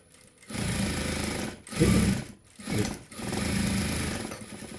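A sewing machine runs in several bursts of steady mechanical whirring, stopping briefly between runs, close and moderately loud.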